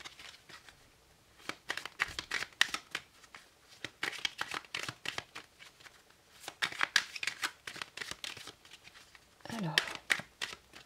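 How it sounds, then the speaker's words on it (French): Tarot cards being shuffled by hand before a draw, repeated quick riffling flutters and soft slaps close to the mic, in uneven bursts with brief pauses. "on va tirer trois cartes"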